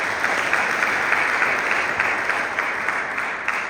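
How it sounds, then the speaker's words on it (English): Audience applauding after a speech at a hopeful talk, steady dense clapping from many hands throughout, loud and even with no voices. "Let's give him a round of applause"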